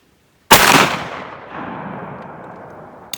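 A single loud, close 12 gauge shotgun blast firing a 7/8 ounce hollow point hunting slug at an outdoor range, with a sharp crack followed by a long rolling echo that fades out.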